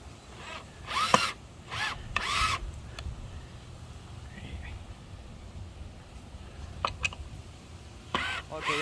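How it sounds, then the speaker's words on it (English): Screws driven into a 2x4 board while building a kayak motor mount: a few short, loud whirring spurts separated by quieter stretches of background noise. "Now we're just gonna screw in the screws."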